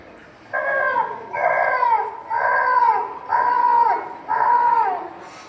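A mimicry performer at a school talent fair voices a crow perched in a tree, with five harsh, nasal caws in an even rhythm, loud and close.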